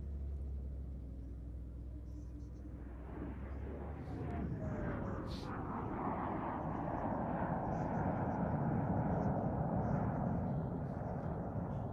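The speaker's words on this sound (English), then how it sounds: "That is such a beautiful airplane." A jet aircraft with a Rolls-Royce Avon engine roars steadily overhead at an air show, a broad rushing rumble building and sweeping past with a descending whine, loud and continuous.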